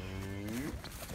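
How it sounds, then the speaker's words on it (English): Cattle moo from a pasture, one drawn-out low call rising in pitch and then fading, fairly close and loud, with no talk over it. "There's some cows over there. Looks like they're ready to move."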